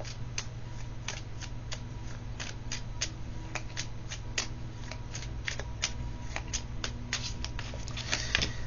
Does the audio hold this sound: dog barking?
no